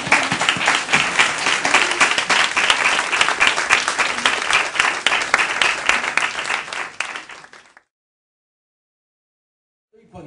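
Audience applause at a book presentation for the novel Milmort, a loud, dense burst of clapping from a seated crowd that stops abruptly, leaving near silence.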